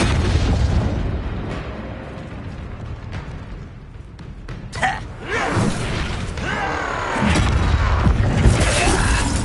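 Spell cast and impact in the Hogwarts Legacy video game: the Flipendo knock-back spell lands with booming, bursting game effects over a dense, continuous layer of combat sound and music.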